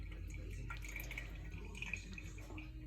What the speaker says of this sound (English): So we are now draining the curds and whey.